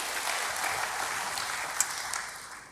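A church congregation claps together in sustained, even applause, a dense crackle of many hands at moderate level throughout, with no voices over it.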